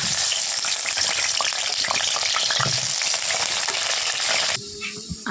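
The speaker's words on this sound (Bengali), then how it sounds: "তেল গরম হয়ে গেছে, এবারে আলুটা ভালো করে ভেজে নেব।" Potatoes frying in hot oil in a pan, a loud, dense crackling sizzle with stirring scrapes that drops suddenly near the end.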